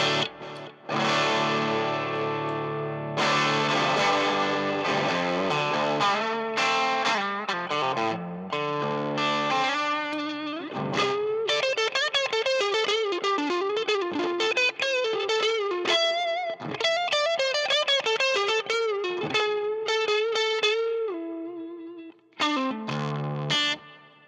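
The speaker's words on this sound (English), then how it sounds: "This is a Paul Cochran Timmy overdrive. And then also always on is the Ghost Echo" Gibson Les Paul electric guitar played through a Paul Cochran Timmy overdrive and a Ghost Echo pedal, giving loud, continuous overdriven chords and sustained lead notes with echo tails and no talking.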